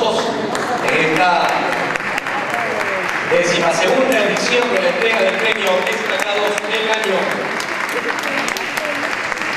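Loud, sustained applause fills an awards ceremony hall as an announcer speaks over it, the clapping continuous and close throughout.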